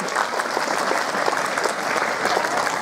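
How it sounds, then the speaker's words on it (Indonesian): A room of students at a junior high school gives steady, dense applause for a campaign speaker, with even, continuous clapping from start to finish and no voices on top. "tepuk tangan dulu lah buat Pak Dodi"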